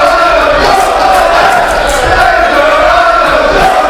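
A split wrestling crowd at a live Kamikaze Pro title match chants and roars loudly and continuously, a dense indoor crowd with rhythmic swells.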